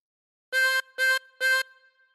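Three evenly spaced blown notes on a 24-hole tremolo harmonica, each from hole 9, bright and reedy with short decays between them, played close and alone.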